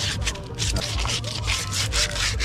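A car wheel rim is sanded by hand in quick, repeated rubbing strokes that sound rough, scratchy and close.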